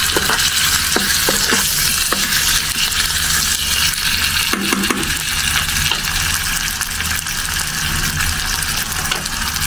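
Pork seasoned with pepper frying in a pan, a loud continuous sizzle and crackle with occasional stirring scrapes and bursts of spattering, close by and without talk.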